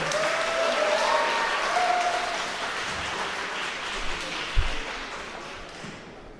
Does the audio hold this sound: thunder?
no